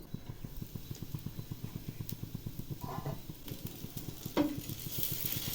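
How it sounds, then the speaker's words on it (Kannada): Food cooking in oil in a pan on a low flame, a soft continuous sizzle with a steady rhythmic pulsing underneath and a few brief scrapes and clinks, close and fairly quiet. "ಇವಾಗ ಲೋ ಫ್ಲೇಮಲ್ಲಿ 1-2 ನಿಮಿಷ ಚೆನ್ನಾಗಿ ಬೇಯಿಸ್ಕೊಳ್ಳೋಣ"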